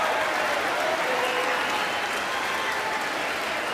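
Loud, dense applause and cheering fill a congressional chamber during a State of the Union address, a steady unbroken roar of clapping from a large audience with no clear speech on top.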